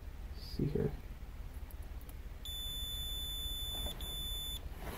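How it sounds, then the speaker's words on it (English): A Cen-Tech 11-function digital multimeter sounds its continuity beeper as a steady high tone for about two seconds, broken by a brief gap, with a quiet room and a voice heard just before. "See, maybe you can hear it beeping."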